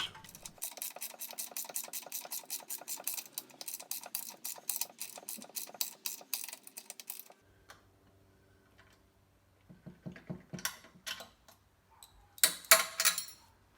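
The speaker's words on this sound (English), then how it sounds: "used my ratchet to tighten the nut onto the bolt" A ratchet wrench tightens a nut onto a bolt of a Holtzapffel workbench base, giving rapid, even clicking for several seconds. After a pause, a few shorter bursts of clicks follow, close and clear in a quiet shop.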